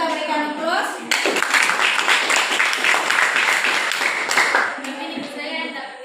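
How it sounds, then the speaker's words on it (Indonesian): Applause from a classroom group breaks out after a chemistry calorimetry presentation, a dense burst of clapping that lasts about three seconds and then fades back into quiet room murmur. "terima kasih kelompok 4, kita berikan aplaus"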